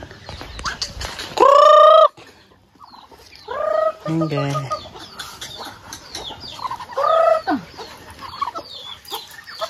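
Chicken at a house calling nearby, a few loud squawking clucks and cackles in separate bursts, with people talking between them.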